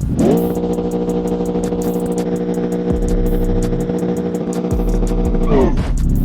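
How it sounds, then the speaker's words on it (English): A Spartax 317 race car launches off the line, its engine holding a loud, steady high-revving drone with rhythmic ticking clatter before easing off near the end. "Ooh, that's a good launch out of the Spartax 317."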